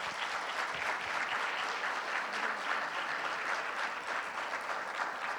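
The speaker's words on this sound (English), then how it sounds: "Could you please give them a big round of applause?" Conference audience giving a round of applause, a continuous, fairly faint and distant-sounding patter of many hands that holds steady throughout.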